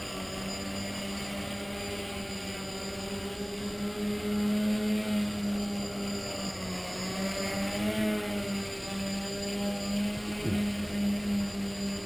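A tricopter multirotor drone hovers at night close by, a steady droning motor hum with tonal whine that wavers slightly as it holds position, with no talk over it.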